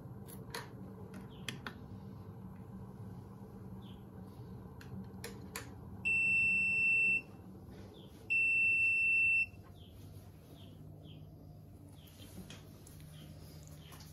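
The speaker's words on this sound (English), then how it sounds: "it actually beeps when it's ready, when you're at temperature" A 12 volt portable kettle signals that the water has reached temperature with two long electronic beeps, each about a second, loud and close, over quiet room noise with a few small clicks and taps.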